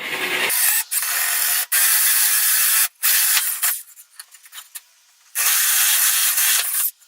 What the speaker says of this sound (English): Now I'm drilling my hole in at the 10-inch first.